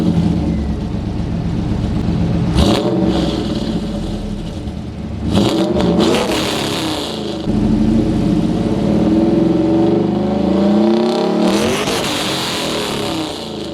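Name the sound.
muscle car engine revving, MagnaFlow exhaust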